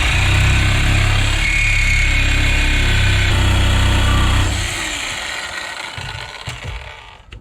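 Power tool cutting off a hard set pin on a 7.3 IDI diesel truck exhaust hanger, a loud continuous grinding whine close up for several seconds that then winds down and fades out.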